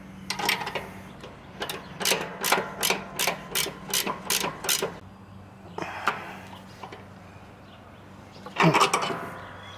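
Ratcheting clicks from pliers holding and tightening a belt tensioner on a Gravely lawn mower, a run of about eight quick, even clicks followed by a few scattered mechanical clacks, close and fairly loud, with no talking.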